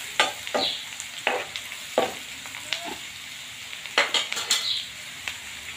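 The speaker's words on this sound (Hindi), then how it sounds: "और प्याज को अच्छे से मिला देंगे।" Onions and Kashmiri chili being mixed and fried in a tadka, close sizzling punctuated by repeated scraping strokes and metallic clicks of a spoon against the pan in an irregular rhythm.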